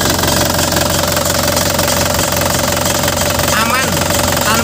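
A warm engine of a 2013 Isuzu Panther LS Turbo diesel idles loudly and close by, with a dense, constant knocking clatter and a steady rumble; a voice speaks faintly beneath it.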